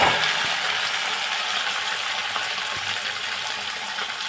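Cut potato pieces hitting hot oil in a pan, a steady bright sizzle that holds loud and even throughout with no talking.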